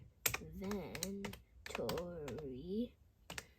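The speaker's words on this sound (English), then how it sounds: "So I'll type in inventory." Someone types a short word on a computer keyboard while making a Minecraft-style game in Scratch, with a few quick soft key clicks heard close up beneath talking.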